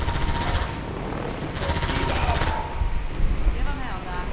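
Two rapid bursts of automatic gunfire in Half-Life 2, fired at a door, each a dense rattling volley lasting about a second, separated by a short lull and followed by quieter game ambience.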